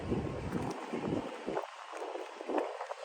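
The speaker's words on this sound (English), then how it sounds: "It's getting windy." Steady wind rushing and buffeting across a microphone, with low gusty rumbles rising and falling throughout and no voices.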